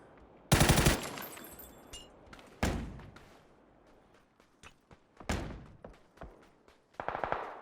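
Loud automatic gunfire in a PUBG pro scrim match: heavy bursts of rapid shots up close, then scattered quieter single shots and short volleys further off.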